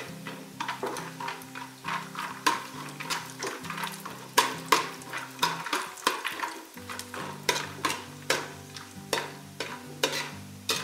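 Halved almonds frying in oil in a pan, cooked for shahi mutton biryani; rhythmic spatula stirring and clinks of metal on the pan over a soft sizzle, with faint background music.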